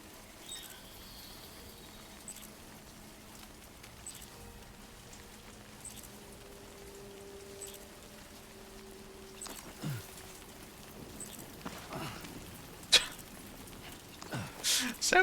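In the video game Death Stranding 2, rain falls as a faint, steady hiss. A few sharper, louder patter bursts come toward the end. The rain stays low and continuous in the background.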